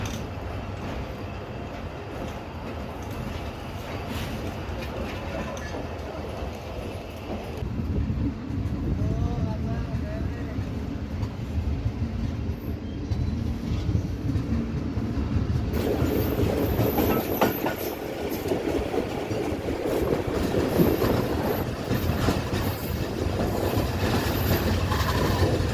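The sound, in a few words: 34 Down Pak Business Express train arriving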